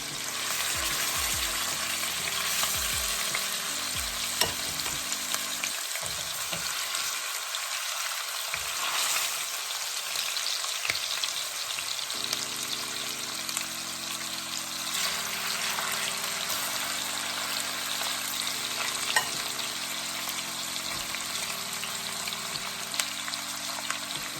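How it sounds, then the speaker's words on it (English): Turkey necks sear in a hot pan with a steady broadband sizzle running the full length, while a low tonal hum drones underneath and occasional scrapes or stirs poke through; no one talks. "Now I'm gonna let it sear on this side here for about 3 or 4 minutes."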